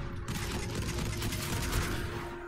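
Rapid pistol fire in the video game Destiny 2 runs as a dense, continuous stream of shots through the whole stretch, loud and close, with no talking.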